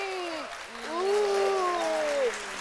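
A television studio audience applauding, a steady wash of clapping that swells midway, beneath someone speaking.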